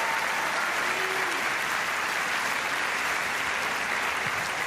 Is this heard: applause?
yes